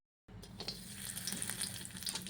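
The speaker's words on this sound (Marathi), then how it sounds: "आता खोबरं आपण छानपैकी भाजून घेणार आहोत" Steady oily sizzling as chopped coconut roasts in a hot kadhai, continuous crackle and hiss starting abruptly and holding at an even level throughout.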